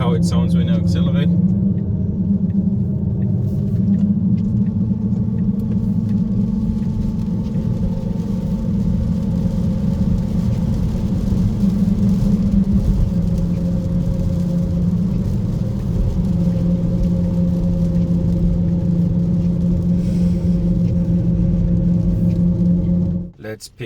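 A loud, low simulated Maserati exhaust from an electric car's active sound system rumbles continuously, its pitch shifting slightly as it accelerates, close and steady before cutting off abruptly.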